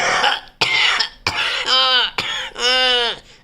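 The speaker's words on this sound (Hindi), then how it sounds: "ऐसा करके आप खांसेंगे" A person demonstrates forceful coughing of the kind used during a heart attack: about five hard, close coughs in quick succession, some ending in strained, voiced throat sounds.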